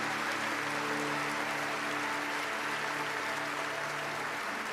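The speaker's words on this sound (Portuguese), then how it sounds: "Aplauda o mais forte que você puder." A congregation applauds hard during a Christian sermon, giving a steady, dense wash of clapping that holds at an even level with a sustained tone underneath.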